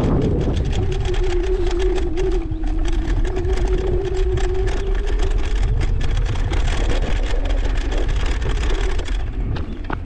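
A motor scooter ridden across bumpy grass in a yard, its engine droning continuously at close range under rushing wind noise, with no voices.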